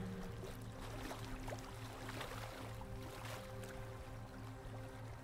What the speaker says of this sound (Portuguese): os sons das ondas do lago,